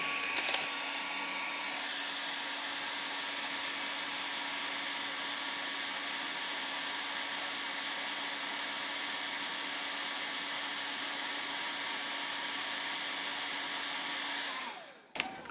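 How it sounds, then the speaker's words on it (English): A hair dryer blows with a steady, loud whirring roar that runs unbroken, then clicks off abruptly at the end, driving a wind belt generator made from an old hard drive. "we're going to simulate the wind by turning a hairdryer on it"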